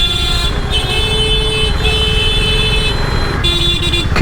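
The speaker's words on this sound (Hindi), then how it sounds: "कितना हॉर्न बजाते हैं यहाँ पर" Dense street traffic with several car horns honking and overlapping, steady loud road noise underneath, no pauses between blasts.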